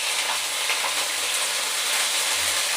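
Peanuts and curry leaves frying in oil in a pan for Udupi-style gojju avalakki give an even, close, crackling sizzle throughout, with no talking.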